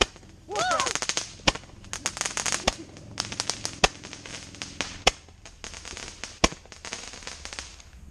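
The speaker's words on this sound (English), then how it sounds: "The Roman candle wasn't much of a hit, so in fact it kind of fell over and shot in a direction I wasn't planning" A Roman candle firework that has tipped over fires off outdoors: a brief rising whistle, then a long irregular string of sharp pops and crackling bangs, some loud and close, others softer.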